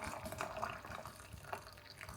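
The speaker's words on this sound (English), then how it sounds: "in our pan, the first thing we're going to put in is our water" Boiling water poured into a big cooking pan for homemade dog food, a steady close splashing, trickling stream with a few bright drips, heard alone without talk.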